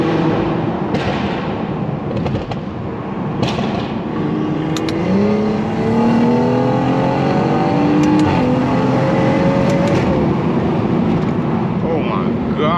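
A BMW 540i revving hard while sliding through turns, engine notes rising and falling in sweeping pitch changes with sharp pops, close and loud, with a voice talking over parts of it.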